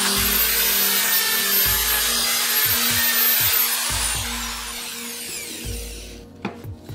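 A drill grinds steadily into wood, loud and close, with rhythmic low thumps and a high whine that fades before a few clicks at the end.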